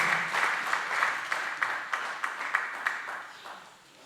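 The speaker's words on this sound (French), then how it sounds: "Can we give a big applaud?" A congregation at a memorial service applauds the pastor with steady, fairly loud clapping from many hands, sharp individual claps standing out as it gradually fades toward the end.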